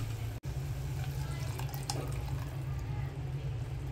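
Water poured into a pan of egg masala with an onion and coconut paste, a steady, close pouring rush that runs throughout with no talk over it.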